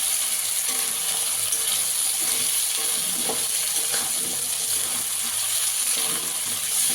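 Meat and potatoes with spices fry loudly in a pan, giving a steady, close sizzle with occasional stirring scrapes, and water is then added.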